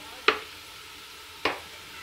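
Onions frying in a pan with a teaspoon of cumin seeds added give a faint, steady sizzle, broken by two sharp, close stirring clacks about a second apart.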